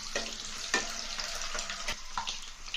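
Eggs frying in a pan until light golden brown, giving a steady close sizzle with occasional sharper pops and stirring scrapes, no voices.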